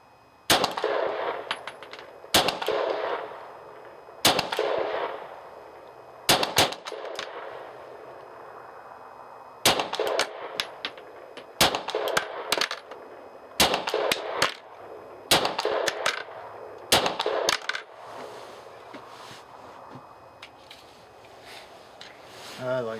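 A Ruger SR9 pistol fired outdoors at a shooting range, with loud, sharp reports arriving in short clusters and single shots, separated by pauses of a few seconds over quiet background.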